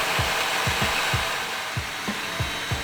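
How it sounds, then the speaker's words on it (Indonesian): An electric mixer whips eggs and sugar for banana cake, giving a steady loud whir with regular low thumps as the beaters knock the bowl. No one speaks. "Sambil menunggu mixer mengaduk telur dan gula"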